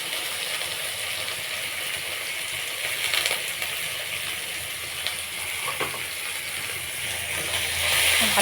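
Spices with turmeric and salt sizzling and frying in a pan, a steady close hiss throughout with faint scraping stirs and slight rises in intensity toward the end.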